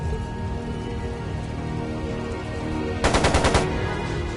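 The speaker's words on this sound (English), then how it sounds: "It sounded like a machine gun." Machine gun fire from the video game Trails of Cold Steel II: a single rapid burst of about half a second, loud and close, standing out against a steady background score.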